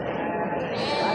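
Sheep bleating at a busy livestock market in Kattakurgan, a dense, continuous wash of animal calls and crowd noise all around, loud and steady with voices mixed in.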